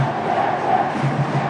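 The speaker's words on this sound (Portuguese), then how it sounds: "E a torcida grita o nome dele." Stadium crowd at a Brazilian football match chanting the name of the centre-back Dedé, a steady massed roar of voices carrying through the whole stretch without pause.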